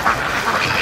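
Muscovy ducks give a short burst of loud, close quacking by a lake, a couple of overlapping raspy calls within under a second.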